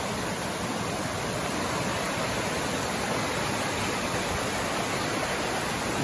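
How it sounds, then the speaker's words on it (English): A waterfall beside the mountain road from Red Lodge toward Yellowstone roars in a dense, steady hiss of falling water, loud and close, unbroken throughout with no voices. "Let's go take a look at this waterfall."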